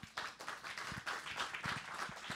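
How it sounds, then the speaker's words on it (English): An audience applauds at a songwriters' showcase, a steady close patter of many hands clapping that fills the short stretch without pause. "round of applause for Georgia"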